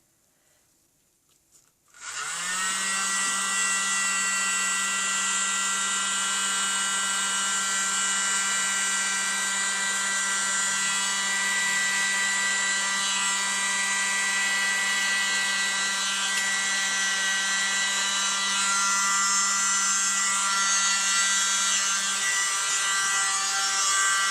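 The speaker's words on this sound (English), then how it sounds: "I'm going to try my little mini blower again" A small electric mini blower with a hair-dryer-style attachment whirs at a steady high pitch, starting abruptly after a brief quiet moment and running continuously without change, during acrylic pour painting.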